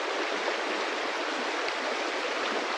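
A river flows on a foggy morning, a steady close rushing hiss of moving water with no breaks or voices.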